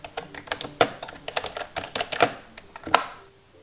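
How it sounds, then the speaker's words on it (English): Close, crisp keyboard typing: a quick irregular run of clicking keystrokes with a few louder, sharper key presses standing out. "If you were wondering what the keyboard sounds like,"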